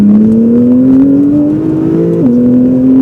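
A Porsche 911 Carrera T (991.2) with Pure Turbos, in sport mode, revs hard and climbs in pitch as it accelerates, with a quick gear change partway through; loud and close, no talking.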